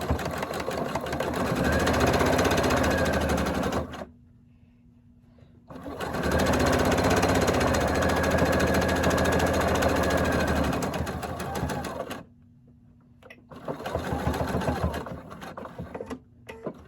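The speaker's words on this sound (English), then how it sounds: "And sewing the second piece, back stitch" A sewing machine back-stitches fleece hat pieces, running in two long steady bursts separated by short pauses, then starting again briefly near the end, loud and close with no talking.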